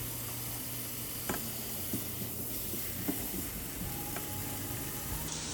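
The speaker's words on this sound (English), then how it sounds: "go ahead and saute those all together just for another couple minutes so everything is fragrant" Garlic and vegetables sautéing together in a pan for beef lasagna, a steady close sizzle and hiss with occasional small pops and clicks.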